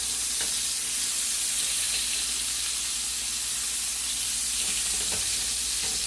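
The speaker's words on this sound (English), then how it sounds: "Let's turn down that heat just a little bit, but we want them to keep searing." Scallops searing in a hot pan with butter and rosemary give a loud, steady, close sizzle throughout, with occasional spits and crackles and no talking.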